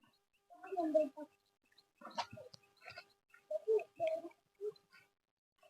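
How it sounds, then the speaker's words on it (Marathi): Chickens clucking and other birds calling outdoors at a quiet rocky spot, heard as several short, separate bursts of clucks and chirps with silent gaps between, fairly faint and close. "पक्ष्यांचा आवाज पण तुम्हाला येत असेल भरपूर."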